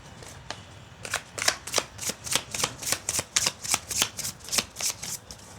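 Tarot cards being shuffled and flipped by hand, a rapid run of crisp, even riffles and flicks that start sparsely and then settle into a steady rhythm, close and fairly loud with no talking.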